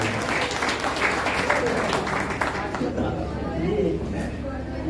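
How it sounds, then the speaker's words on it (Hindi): Sustained applause from an audience, a dense wash of clapping that holds steady throughout with faint voices mixed underneath. "बहुत जोरदार तालियों से स्वागत करेंगे"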